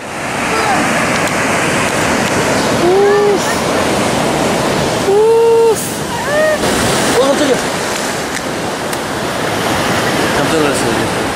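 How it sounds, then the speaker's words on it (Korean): Loud rushing surf roars continuously as waves break nearby, with a few short voiced exclamations rising over the noise. "파도 들어옵니다."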